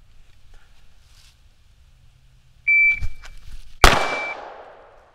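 A shot timer gives a sharp electronic beep, followed a second later by a single loud pistol shot fired from the draw, with its echo decaying.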